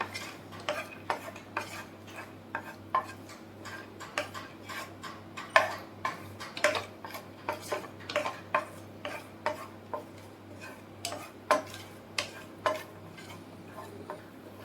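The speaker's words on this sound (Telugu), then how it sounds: "ఇవి బ్రౌన్ కలర్ వచ్చేంత వరకు ఫ్రై చేసుకొని పక్కన పెట్టేసుకుందాం." Almonds and cashews frying in a pan click and tap in a steady run of light strokes as a spoon moves them about. There is a faint hum behind and no speech.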